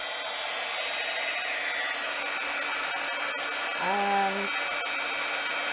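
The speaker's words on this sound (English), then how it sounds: "I'm going to make a bit of noise with my heat gun now." A heat gun blows hot air onto a stamped card as a steady, loud, broadband rush that runs the whole time, with a brief tonal hum near the end and a single spoken word.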